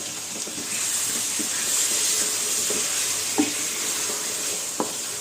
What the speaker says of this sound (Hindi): अब डाल के इसकी कच्ची बू जाने तक इसको अच्छी तरह से भून लीजिए।